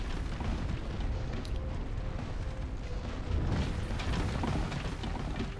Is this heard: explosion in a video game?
yes